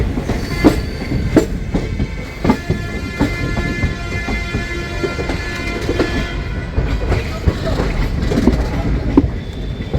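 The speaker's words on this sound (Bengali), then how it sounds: "আমাদের ট্রেনের পরবর্তী হল্ট হলো বারাণসী জাংশন।" A passenger train on the Kolkata to Rishikesh route runs toward Varanasi Junction, heard from inside with loud continuous rumble, rhythmic clickety-clack of wheels on rail joints, and occasional squeals, with voices faintly in the background.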